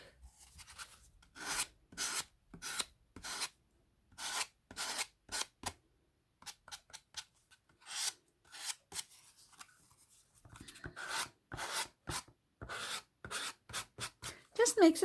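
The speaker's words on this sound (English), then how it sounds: "sanding block" A sanding block rubs along an edge to smooth it, in a series of short rasping strokes, some in quick clusters and others spaced with pauses, close and fairly quiet, with a brief voice near the end.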